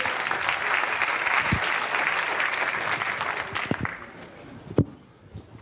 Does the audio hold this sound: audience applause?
yes